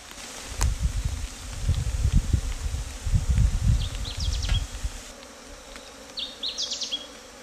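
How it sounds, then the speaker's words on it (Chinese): Many honeybees buzz thickly around a freshly dug-out ground nest on a rainy day, a dense low drone swelling and dipping for about five seconds, then thinning to a softer hum with brief higher whines. "这窝有好多蜜蜂啊，虽然它没有蜜，但是这窝非常旺， 有好多的蜜蜂"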